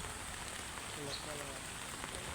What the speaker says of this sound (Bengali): এখন পর্যন্ত বৃষ্টি হচ্ছে